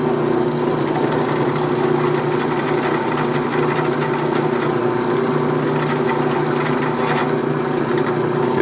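A drill press boring axle clearance holes through WD-40-lubricated aluminum for a robot drivetrain, a steady continuous whirring grind with a faint rasp that holds at an even level throughout.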